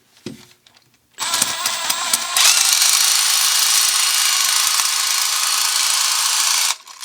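A Milwaukee threaded rod nut runner spins a nut up a threaded rod, starting with a few quiet taps before a close, high-pitched whir that runs steadily for about five seconds, then cuts off.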